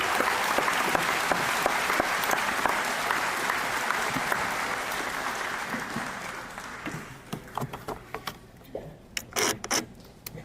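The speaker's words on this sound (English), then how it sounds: "let's go ahead and give her another round of applause." Audience applause at a practical nursing graduation ceremony, sustained dense clapping from a large crowd for about seven seconds, then thinning into scattered individual claps that trail off.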